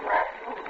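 A dog in an old suspense radio drama gives one short, close yelp or whimpering bark, less than a second long, with no voices over it.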